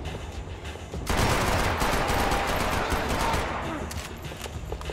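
Gunfire in Max Payne 3, sustained automatic bursts erupting after a quieter first second, loud and dense, then easing slightly toward the end.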